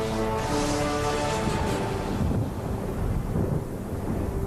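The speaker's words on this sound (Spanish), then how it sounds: "En la Tierra eleva la humedad y así se forman las tormentas eléctricas" Steady heavy rain and a low continuous rumble of thunder from an electrical storm fill the scene, a dense roar that holds at the same level throughout with no voices.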